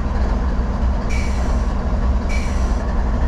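A CSX freight train rolls through a railroad crossing on the Lehigh line, a steady loud rumble of wagons and wheels with two brief high squeals or hisses breaking through, no voices.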